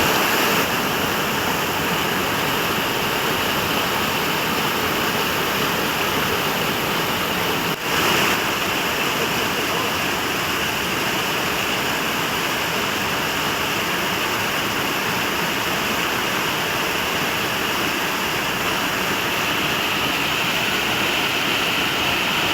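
A newly formed waterfall near Chikkaballapur gushes with a constant, loud, broadband roar of rushing water that holds steady and alone throughout.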